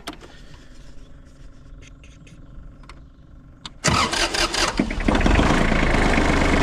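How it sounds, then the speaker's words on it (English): A tractor engine sits quiet with small clicks and knocks, then cranks and catches, roaring loudly and settling into a rough, steady idle close by. "turn it on,"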